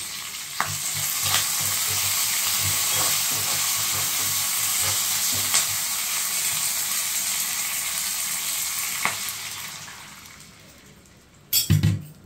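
Curry leaves sizzle in hot oil for tomato rasam, a loud, continuous crackling hiss with scattered pops that fades toward the end before a couple of sharp clatters.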